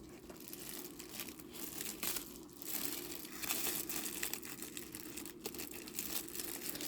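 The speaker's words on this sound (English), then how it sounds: "let's unwrap it and see what it looks like" Plastic packaging wrapped around a Montana West tote bag set crinkles and crackles continuously up close, rustling steadily for several seconds with no talking.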